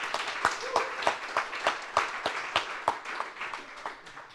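A meetup audience claps for its hosts, sparse, fairly quiet hand claps from a small crowd in a room, with a brief murmur of voices underneath.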